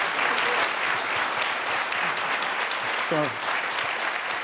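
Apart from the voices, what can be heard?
audience applause for the panel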